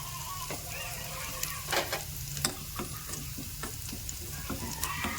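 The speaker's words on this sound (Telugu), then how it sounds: "మనం పౌడర్ కొంచెం పత్తి వాసన పోయేదాకా వేయించుకుందాం" Spice powder roasting in a pan for a fish curry: a low, steady sizzle broken by repeated scraping and tapping of a spoon stirring, close and moderately quiet, with no speech.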